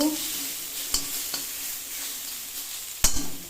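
Fenugreek greens stir-fried with garlic hiss steadily in a pan, close, with a few sharp scraping knocks from the spatula as they are turned.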